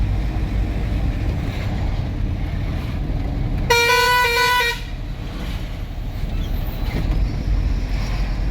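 A KSRTC bus air horn blasts once, loud and close, for about a second over steady road and engine rumble in a hilly area.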